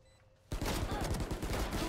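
Gunfire in the video game Valorant erupts suddenly after a quiet moment, a dense loud rattling burst of rapid shots that continues without pause to the end.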